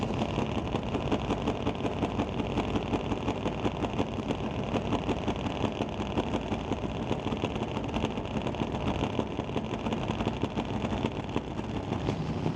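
Drag racing motorcycles with close to 2,000 horsepower rumble at a drag strip, a dense, steady engine roar with continuous rough texture and wind buffeting, loud and sustained without pause.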